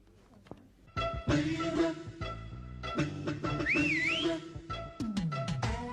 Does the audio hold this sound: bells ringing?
no